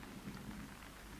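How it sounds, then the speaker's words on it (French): A quiet, steady hiss of rain falling with a faint low rumble underneath, distant and continuous, with no voices. "La pluie ne cessera pas."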